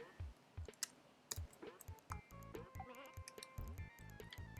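A sheep in the video game Bubsy II bleats in short, repeated cries amid clicking game sound effects and brief tones, fairly quiet and busy overall.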